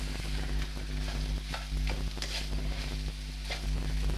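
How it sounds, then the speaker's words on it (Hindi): Potato samosa filling frying in a pan, a close, steady sizzle with repeated scraping stir strokes and soft crackles, accompanied by a low steady hum, no speech. "बस इसे मैं ज़रा थोड़ा फ्राई करती हूँ,"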